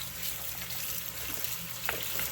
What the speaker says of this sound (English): I'm going to rinse the salt off of these with the water